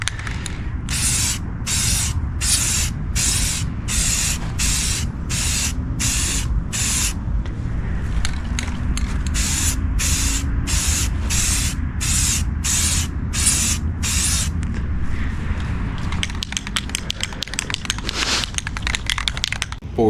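Spray paint hisses in a rapid run of short, regular bursts as a base coat goes onto junkyard wheels, then shifts to longer, steadier spraying, all over a loud low background rumble.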